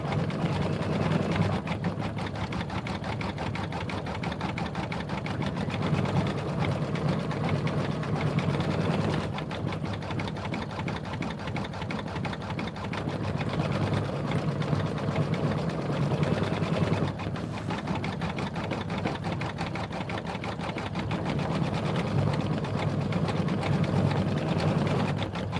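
Sewing machine running continuously while quilt blocks are sewn, a loud, sustained mechanical hum with slight surges over about twenty-five seconds.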